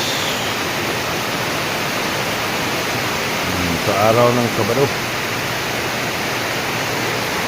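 A heavy downpour roars loudly and continuously, with someone briefly speaking over it midway before the rain carries on alone.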